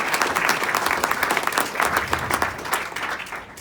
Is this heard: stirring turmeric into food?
no